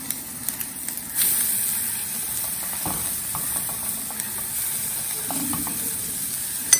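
Grated carrot tossed into a hot pan and stirred gives a steady, soft sizzle and hiss that begins after a second and holds throughout, with faint scraping of stirring on top.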